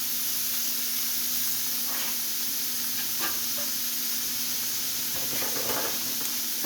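Chopped onion browning in a pan for pork chow mein gives a steady, close sizzle, with a few brief stirring scrapes and clicks toward the end.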